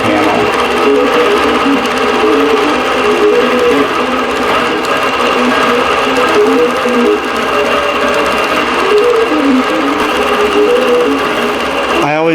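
Longarm quilting machine stitching a quilt with variegated thread on a frame, a loud continuous mechanical whir with rapid needle chatter, steady and close throughout.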